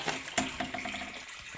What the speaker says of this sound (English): So there you see the water flowing in, flowing in from the spring,